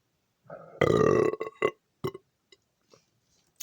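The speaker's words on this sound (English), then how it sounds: "Indian food does give you burps and gas" A long, loud, close burp after an Indian chicken meal from a Canadian military ration, followed by a few small, scattered hiccup-like gulps and throat sounds.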